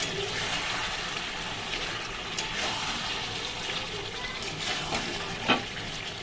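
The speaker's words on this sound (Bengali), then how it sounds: "চিকেনটাকে দিয়ে ভালো করে কষাবো, সুন্দর করে কষাবো" Chicken being fried and stirred in oil, giving a continuous moderate sizzle with a few scraping strokes and one sharper clack near the end.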